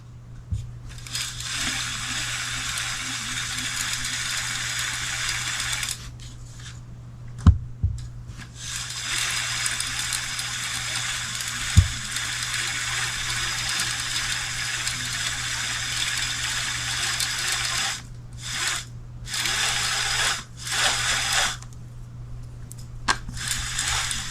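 A Piscifun reel spooler feeds fishing line onto a reel with a steady whirring hiss, stopping and restarting a few times, with sharp clicks between runs.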